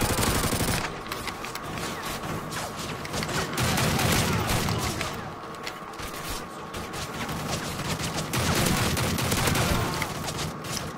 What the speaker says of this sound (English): They're throwing grenades.